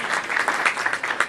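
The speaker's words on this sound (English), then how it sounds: "Yes, you can applaud" Brief burst of audience clapping at a Chanukah menorah lighting party, lively and fairly loud with uneven, bright hand claps for just over a second.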